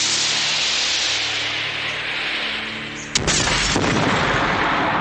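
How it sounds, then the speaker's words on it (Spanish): Film missile explosion from the splatter comedy Bad Taste: a sudden loud blast around the three-second mark, with a second crack just after, cutting through a steady roaring background and leaving a rumbling, crackling tail. "¡Ese misil! ¡Esa explosión!"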